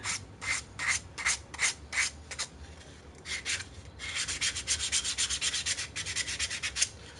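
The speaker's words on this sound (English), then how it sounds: "Trick to good sanding though is to just start off sanding in the direction of the grain" Sandpaper rubbed along the grain of wood while making a trophy, rhythmic back-and-forth rasping strokes, a few separate passes and then a faster, steady run of close strokes, with no speech.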